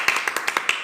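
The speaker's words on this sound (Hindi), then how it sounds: "तालियां बजाओ अपने लिए।" Hands clap about seven quick, sharp times in a fast, slightly uneven run, close and clear with no talk over them.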